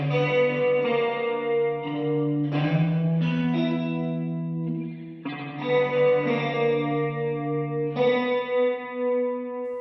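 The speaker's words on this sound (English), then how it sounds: "the panner is giving us a spring reverb on the left and a plate reverb on the right while the guitar is playing" Electric guitar played through a spring reverb on the left and a plate reverb on the right, autopanned for width. Sustained chords change every second or two, with lingering reverb tails and no voices.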